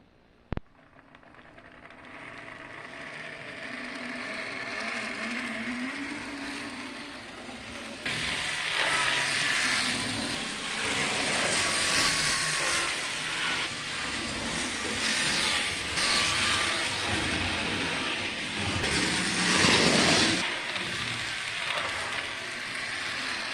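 A Jouef model locomotive runs along its track with a steady rushing, whirring roll. It starts faintly after a sharp click, then grows louder and holds a fairly even level with small swells.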